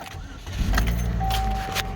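A 2008 Chevy Cobalt LS engine cranks and catches, rising into a steady close idle with a faint whine, preceded by a brief rattle at the start.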